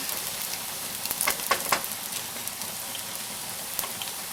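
A Spanish tortilla of egg and potato cooks in a pan, giving a steady soft sizzle with a few sharper crackles and pops near the middle, close and fairly quiet, with no voices.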